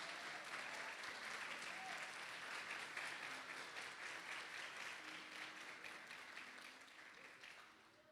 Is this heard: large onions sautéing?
no